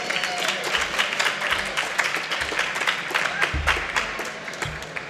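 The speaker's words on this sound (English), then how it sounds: "can we get a round of applause for all of our finalists?" An audience at a startup pitch final at Event Tech Live London applauds steadily, a dense patter of many hands clapping at moderate volume, with some low thumps underneath.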